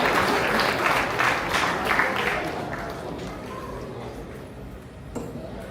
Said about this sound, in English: Ladies and gentlemen, if you could please give a big round of applause for Parth's parents.